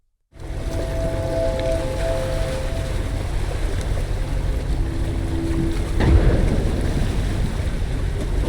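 Steady wind and lapping water around a sailboat gliding over the sea in the game Estranged, a constant close rush with a low hum and a brief swell of louder splashing midway, no voices.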